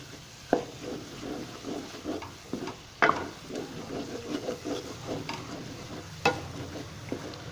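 A spoon stirs a chicken omelette in a pan over medium heat, with a steady low sizzle and a few sharp scrapes and clinks against the pan at scattered moments. No one speaks.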